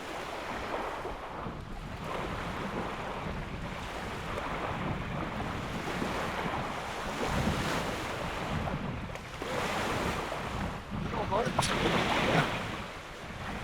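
Waves lapping and surging on Pyramid Lake, a steady broadband wash with wind buffeting the microphone throughout, swelling slightly toward the end; no talk.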